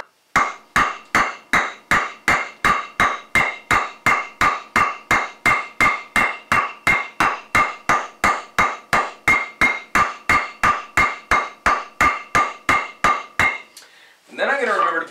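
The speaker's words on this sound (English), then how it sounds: "I'm going to hammer into the end, using my hammer, to make a little dish" Steady, rhythmic hammer blows strike wood again and again, dozens of sharp close thwacks at an even pace, ending with a brief rustling noise, as a hammer pounds the end grain of a 2x4 to dish metal armour.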